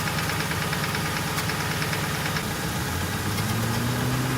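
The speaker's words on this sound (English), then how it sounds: "The radiator fan kicked in when I turned on the AC" A car engine idles steadily under the hood with the AC switched on and the radiator fan running. A loud, constant mechanical drone and whir, with a low hum rising partway through and no talking.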